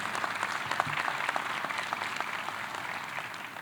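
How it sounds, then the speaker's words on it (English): An audience at a police graduation ceremony applauds in a steady, moderately loud wash of many hands clapping, continuous and even with no voices. "I'm going to ask all the officers to give your families a round of applause for their support of you."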